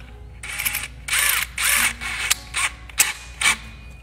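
A drill boring a hole into an airbrush tool case, heard as a series of short whirring and grinding bursts separated by brief pauses, close and fairly loud with no talking.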